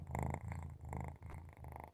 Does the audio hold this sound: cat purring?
yes